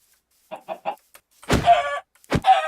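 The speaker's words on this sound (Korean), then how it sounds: "죽어라 닭! 나에게 맛있는 치킨을 내놓아라." A chicken in the video game Minecraft gives three quick, soft clucks, then two louder, longer squawking clucks close up, with no talk over them.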